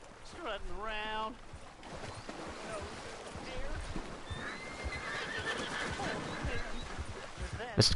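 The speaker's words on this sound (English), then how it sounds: "Well, I just wanna clean my horse." A horse in the video game Red Dead Redemption 2 lets out a loud whinny close by, followed by steady hoof clip-clop and ambient game sounds under a distant voice.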